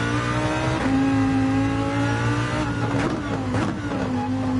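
A Porsche or Ferrari race car's engine drones loud and steady in Gran Turismo 7, with a brief shift around the middle and rising revs near the end.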